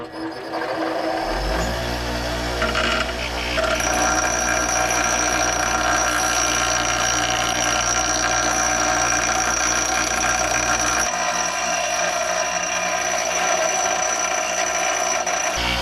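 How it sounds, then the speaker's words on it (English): Bench grinder grinding a bevel onto the end of a metal part, a loud steady high whine with a constant low motor hum running throughout, harsh grinding hiss layered on top, no talking. "We'll start off over here at the old bench grinder."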